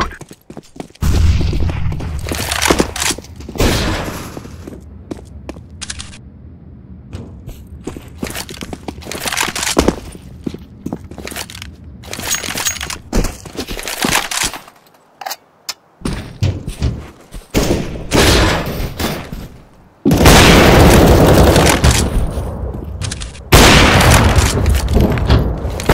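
Grenade thrown and exploding in the video game CS:GO, among repeated heavy thuds and booms, with a loud sustained blast burst near the end and dense gunfire-like impacts throughout.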